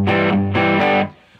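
Overdriven electric guitar, the warmer overdrive side of a dual drive pedal, plays two sustained distorted chords that ring loud and thick before cutting off into near silence.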